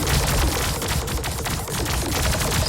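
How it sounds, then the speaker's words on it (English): Rapid, dense bursts of beam weapon fire in the space strategy game Star Drive 2, a loud continuous crackling barrage with no pauses across the whole stretch. "The firepower from these beam weapons is pretty good."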